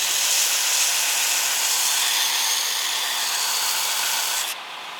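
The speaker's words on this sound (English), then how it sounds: "First thing I'm going to do is grind a 45 degree, working to an imaginary centre line." A Shop Master 72-inch belt grinder with a Blaze belt grinds a 45-degree bevel on a knife blade, giving a loud, continuous abrasive hiss that drops in level near the end.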